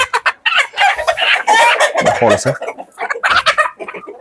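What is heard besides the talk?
Andijan black chickens and roosters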